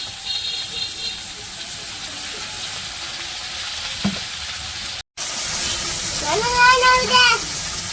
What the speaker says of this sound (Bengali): তো মাছ ভাজা নামিয়ে রেখে পেঁয়াজ আর কাঁচামরিচ দিয়ে দিল